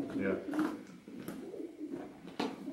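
Pigeons coo in Arizona's Girard Mine beneath Tombstone, soft low burbling calls repeating under people talking nearby in the echoing underground space.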